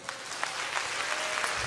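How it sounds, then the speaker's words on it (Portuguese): Brief burst of audience applause during a church sermon, a dense, steady patter of many hands clapping at moderate volume, with no talk over it. "Mulheres que gostam dessa mensagem, dê um aplauso ao Senhor."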